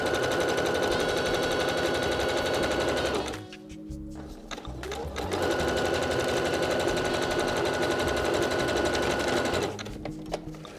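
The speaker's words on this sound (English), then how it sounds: "I'm going to stitch straight down the middle of the fold over elastic" A sewing machine stitches down the middle of fold-over elastic in a rapid, steady mechanical whir, close up. It stops briefly partway through and then resumes.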